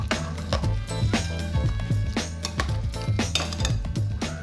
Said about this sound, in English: Just stir that together till it's well blended.